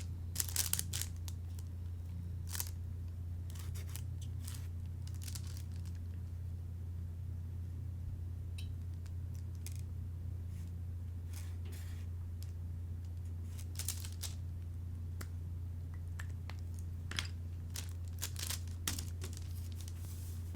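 Scissors snip through a paper blouse pattern in short, scattered crinkly cuts and rustles, close by, over a steady low hum with no talking.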